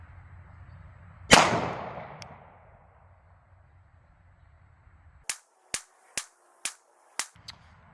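Shots from a Nighthawk Custom 1911 pistol fired at a target during accuracy testing: one loud report with a long ringing decay, then five sharp shots at an even, unhurried pace.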